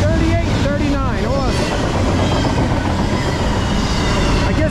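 Norfolk Southern rebuilt locomotives 4638 and 4639 haul train 268 close by, a loud continuous rail rumble with wheel squeals and clatter early on.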